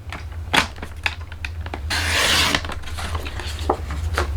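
Card stock paper being cut to size for a handmade gatefold card, a rasping, scraping stroke that swells over about a second, with scattered light taps and handling noises around it, close and fairly quiet, no talking.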